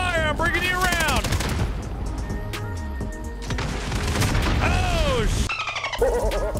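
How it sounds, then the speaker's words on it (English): Sustained gunfire in the Warzone shooter during a vehicle fight, dense rattling bursts mixed with engine rumble and whistling effects, loud and continuous with voices talking over it. "Lay that suppressive fire."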